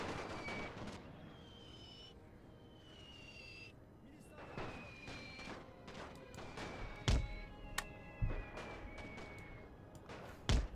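Gunfire in Great War Total War, with sporadic distant thuds and a few sharper close shots standing out later, faint and spread out beneath talk and whistling tones.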